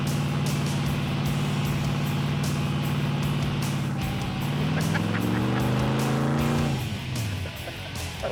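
Pinging detonation in a pro street car's engine after a burnout: the motor holds a loud, strained high-rev drone, then its pitch sweeps down and it settles to a rough idle, close by.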